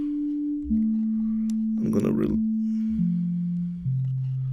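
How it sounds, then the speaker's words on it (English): Pure sine tone from the Niseko additive synth in Ableton Live, a steady low hum that steps down in pitch several times, with someone speaking briefly over the middle. "so it's very pure, just a sine wave."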